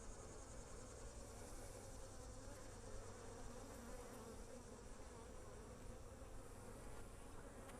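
Dense, steady buzzing of many honey bees crowded inside a filled hive feeder, heard up close and continuously with no voices.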